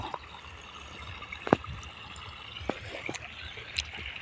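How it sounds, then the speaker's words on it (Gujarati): Irrigation water runs into a fennel field, a soft continuous trickle and gurgle of flowing water heard nearby, punctuated by a few sharp knocks and clicks, with no talking. "અહીંયાથી આપણે પાણી આવે છે જો"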